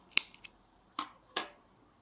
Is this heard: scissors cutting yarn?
yes